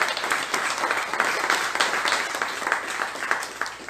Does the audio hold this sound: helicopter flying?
no